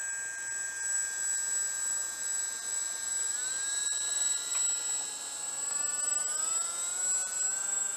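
Junkers Tri-motor aircraft engines running on a runway give a steady, droning hum with layered whining tones that shift in pitch midway, continuous and fairly close with no talk.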